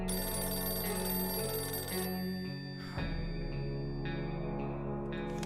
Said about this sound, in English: suddenly a phone starts ringing from somewhere outside